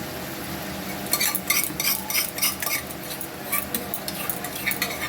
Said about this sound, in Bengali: এখন ভাজা চলছে।